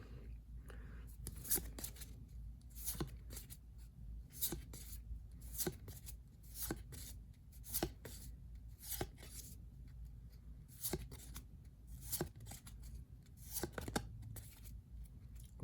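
Battle Spirits Saga Evangelion Halo of Awakening trading cards from booster packs are handled up close, giving quiet, repeated crisp flicks and slides of card stock at an uneven rhythm.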